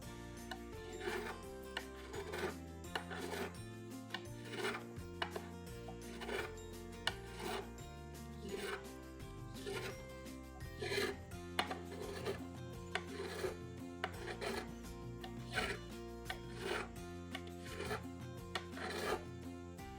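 Repeated rasping strokes of a file leveling guitar frets during a professional setup, coming close and steady in an even back-and-forth rhythm with no talking.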